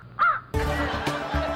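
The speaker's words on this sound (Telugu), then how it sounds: "100 కాకులు ఒకేసారి అరుస్తున్నట్టుగా ఉంది" Crow caws come in quick succession, one short harsh call followed by a denser burst of several overlapping caws, close and fairly loud.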